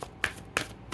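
Medicine cards from a Capricorn reading deck shuffled by hand, three quick riffling bursts spaced about a third of a second apart, close and crisp with no talking.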